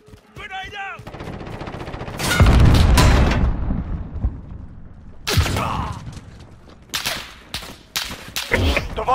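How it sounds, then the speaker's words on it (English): A video-game grenade blast booms loudly and lingers, followed by bursts of automatic gunfire and further sharp shots, with a voice calling out at the start. "Grenade out!"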